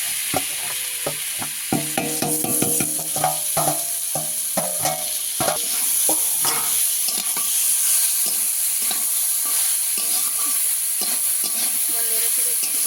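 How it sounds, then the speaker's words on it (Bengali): Boiled taro frying with black cumin in hot oil is stirred in a pan, a spoon clattering and scraping in quick strokes over a loud, steady sizzle. "নেড়ে চেড়ে একটু ভেজে ভেজে নেবো।"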